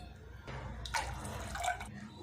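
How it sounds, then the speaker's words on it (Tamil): Water is poured into a cooking pot to cook basmati rice, giving a short, quiet splashing and trickling sound in two brief bursts close by, with no speech. "இப்போ இது கூட நம்ம அளவு தண்ணி சேர்த்துடலாம்"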